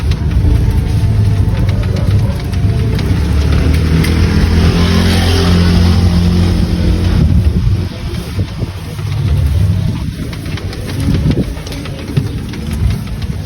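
A motorcycle goes by on a street in the Philippines, its engine a steady, fairly close drone that thins out as it passes, while a background hum carries on with no talk.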